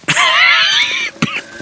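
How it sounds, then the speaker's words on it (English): A video game character coughs: a raspy, strained vocal burst lasting about a second, then a second short cough shortly after, close and fairly loud. "Maybe I can help you with that cough."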